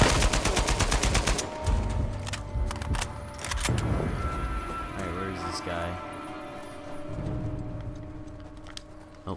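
Rapid gunfire in the video game Uncharted 4, bursts of shots cracking in quick clusters over a busy combat soundscape, loud and repeated through the first few seconds, then scattered single shots and impacts.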